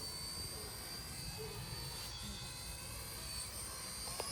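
A UH-1 Huey model RC helicopter flies overhead with a steady, fairly quiet whirring hum of rotor and motor, continuous and even throughout with no voice present.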